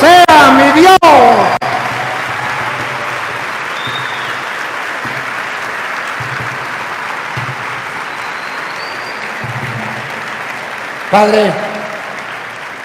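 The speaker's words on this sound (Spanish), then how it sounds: "¡Aplauso para el Señor!" A church congregation breaks into sustained applause for the Lord. A voice speaks briefly at the start, then a long, even wash of clapping follows, and the voice returns near the end.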